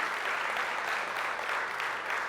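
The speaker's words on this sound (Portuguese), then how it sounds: "Dá uma salva de palmas para ele." A church congregation claps together during an online Portuguese-language service, a short dense burst of steady applause with no voices over it.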